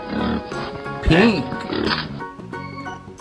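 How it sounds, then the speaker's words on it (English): A pig's oink sounds once in a children's farm-animal colours lesson, a short grunting call in the middle of the clip, mixed with a voice speaking and background music. "Pig."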